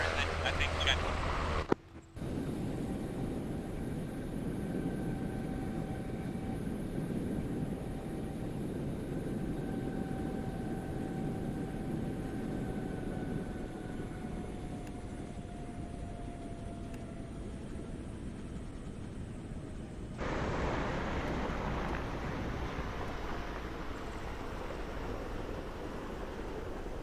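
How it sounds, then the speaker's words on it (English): A helicopter auxiliary power unit in a video game runs as a steady broadband whine and rush, with faint tonal hums, continuing without break and shifting slightly in tone near the end. "It's just the APU and I thought it was spooling."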